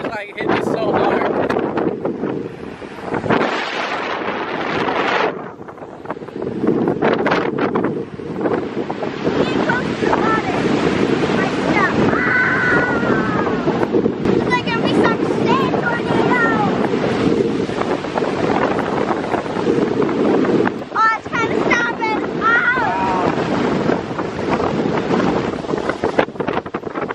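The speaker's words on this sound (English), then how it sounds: "By the water, trying to block the wind." Hurricane Ian's strong wind roars steadily by the water in a loud, continuous buffeting blast against the microphone, with surf churning underneath for nearly half a minute.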